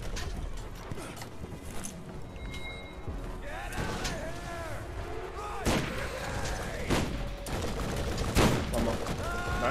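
Mounted gun firing in the Borderlands video game, loud repeated blasts and booming impacts in irregular bursts over a busy layer of combat effects, close and dense throughout.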